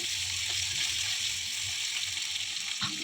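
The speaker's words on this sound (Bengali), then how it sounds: "ছোটো ছোটো করে কেটে আলু দুটো আমি ভালো করে লাল লাল করে ভেজে নেব।" Small chopped potatoes sizzling steadily as they fry in a pan, a continuous close hiss with faint stirring clatter and no voices.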